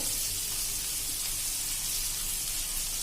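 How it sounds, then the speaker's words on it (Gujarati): Chilli tempering for Kathiyawadi street-style dal pakwan, with dried red and green chillies in hot oil, sizzles in a steady, dense hiss that holds at the same level throughout. "તો આપણું એકદમ જો સરસ વઘાર હલાવી લેશું આ રીતે."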